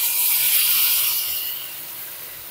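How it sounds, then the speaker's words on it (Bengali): Water poured into a hot pan of sautéed vegetables for shukto, a loud, steady sizzling hiss that runs for a couple of seconds and slowly eases off. "জল দিয়ে দেব।"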